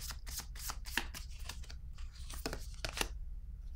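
Tarot cards drawn and handled from a deck during a reading, a run of crisp close rustles and flicks in quick irregular bursts, with faint voice in the background.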